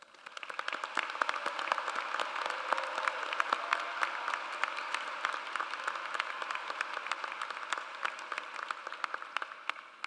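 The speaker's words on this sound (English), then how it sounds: "please join me in applauding our graduates" A large crowd at a college commencement applauds the graduates steadily, a dense wash of clapping that holds at an even level throughout.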